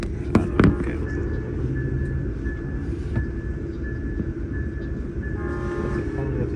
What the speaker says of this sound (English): Oh, okay, there's a train.